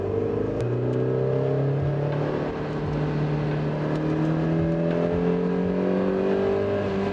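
Stock-exhaust Mazda MX-5 NB engine pulling hard in second gear, a steady, rising drone that climbs in pitch as revs build over several seconds, fairly loud and continuous with no talking.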